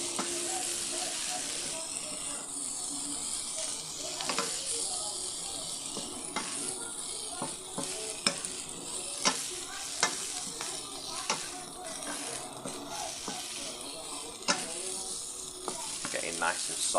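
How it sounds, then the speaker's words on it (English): Vegetables frying in a lidless pan, a steady close sizzle running throughout with frequent scraping and clacking strokes of a stirring utensil, loud and continuous with no talk. "So I'm just going to continue stirring that for another 2 minutes."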